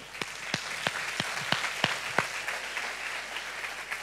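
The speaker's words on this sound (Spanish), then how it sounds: "Démosle un aplauso al Señor." Scattered applause from a small church congregation at a Sunday service, with sharp distinct claps that never merge into a dense roar, fairly close and steady for a few seconds.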